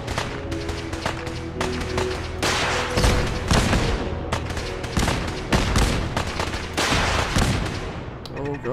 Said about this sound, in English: Oh god, turrets.